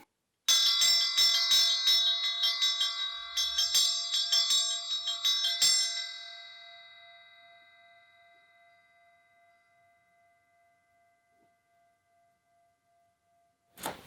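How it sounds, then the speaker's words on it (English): A single bell is struck once during a mindfulness session in a library, rings out bright and clear, then slowly fades over several seconds into near silence. "I'm going to ring a bell, and when the sound stops, you can open your eyes."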